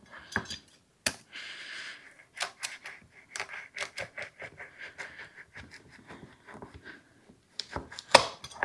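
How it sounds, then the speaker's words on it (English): A knife chops through raw sweet potatoes on a cutting board in a run of sharp, close, irregular thuds and clicks, some quick bursts and some spaced strokes, with no talking. "I'm just going to slice them with a knife"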